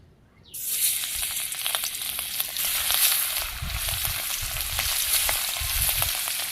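Fish, coated with turmeric and chili, drops into hot oil and starts frying with a sudden loud sizzle, then settles into a steady close crackle with small pops and faint stirring.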